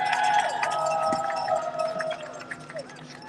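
Crowd at a nurses' union rally cheering loudly, with raised voices and whoops in a continuous roar that eases off toward the end.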